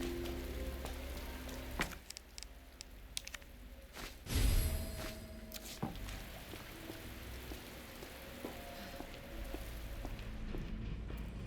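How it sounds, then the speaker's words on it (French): Steady rainfall in the video game Resident Evil 2 Remake, a soft continuous hiss of drops spread across the clip at low level, with occasional brief clicks and one louder burst partway through. "Oh non, il pleut."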